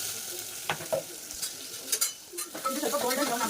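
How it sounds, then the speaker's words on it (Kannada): Chopped onion and curry leaves hitting hot oil in a pan with mustard seeds and cumin, followed by stirring clinks and a rising, crackling sizzle close by. "ಚಟಪಟ ಆದ್ಮೇಲೆ ಈರುಳ್ಳಿ ಮತ್ತೆ ಕರಿಬೇವು ಸೊಪ್ಪು ಹಾಕ್ತಿದ್ದೀನಿ"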